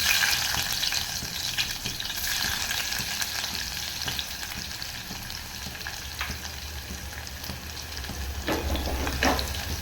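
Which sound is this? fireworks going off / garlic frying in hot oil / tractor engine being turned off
garlic frying in hot oil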